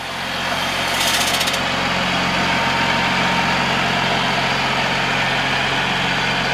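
A 220 horsepower Cummins ISB 6.7 turbo diesel idles in a 2008 Freightliner Business Class M2 106 truck, a loud, steady low rumble with constant hum and a brief higher hiss near the start, no voices.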